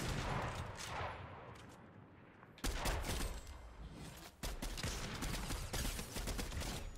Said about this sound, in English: I've got a gunfight here